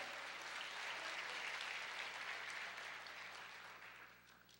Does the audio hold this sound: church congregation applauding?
yes